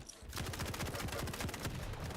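Heavy machine gun in the Quake Champions arena shooter, a steady rapid stream of shots running continuously and fairly loud over the short stretch, with no talk.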